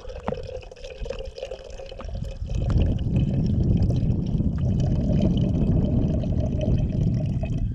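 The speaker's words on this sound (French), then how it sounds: "Et là maintenant je vais rajouter le reste de l'eau." Water poured in to finish brewing coffee outdoors on a paddleboard in -10°C cold, a steady close, loud pour that builds from a quieter trickle into a full continuous stream.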